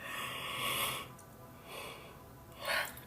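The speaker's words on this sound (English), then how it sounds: "I'm trying to hold in a yawn, but I think it wants to come out. It does." A person's yawn breaks through despite an effort to hold it in. It comes as soft, breathy inhales and exhales with a brief airy swell near the end, faint and close, with no words.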